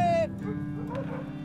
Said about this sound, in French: C'est des Alaskan Husky.